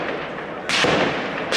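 Two sharp bursts of gunfire cut through a steady background hiss, the first longer, the second a brief crack at the end.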